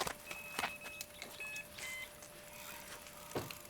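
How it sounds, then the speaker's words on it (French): An electronic beep from a small device sounds as a few thin, steady tones, one longer followed by shorter ones, faint and fairly close, over light rustling and handling noise with no talk. "Il me semblait bien que j'avais entendu le bip."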